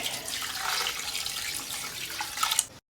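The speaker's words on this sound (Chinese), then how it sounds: "最后再加点水" Water poured from a tap into a pot for braised pork knuckle, a steady close splashing rush lasting a few seconds before stopping abruptly.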